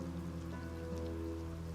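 Heavy, steady downpour rain effect set under a tense story, filling the whole moment with continuous hiss alongside sustained low musical tones.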